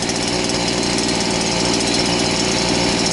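A Redverg petrol-engine power tool idles and runs in just after starting, a loud, steady, rapid rattling drone that stays constant throughout, close up with no speech.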